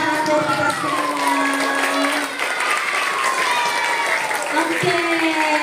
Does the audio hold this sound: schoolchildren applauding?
yes